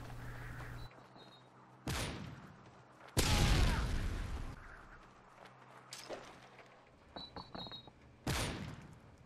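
In Call of Duty Modern Warfare 3, a thrown grenade bursts with a loud booming blast that rumbles off, set among scattered in-game gunfire cracks and other game effects.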